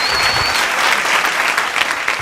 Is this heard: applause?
yes